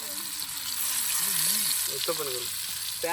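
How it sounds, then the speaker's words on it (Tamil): Fish fries in a small amount of oil, a steady close hiss and sizzle running throughout while someone talks over it. "இப்போ இந்த மீனை பொறிக்க போகிறோம்"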